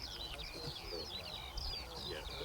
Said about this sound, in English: Skylarks. I think that's what all the bird song is.